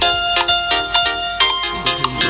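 A custom iPhone ringtone playing, a short bright synthetic melody of repeated pulsing tones in a quick rhythm, clear and alone.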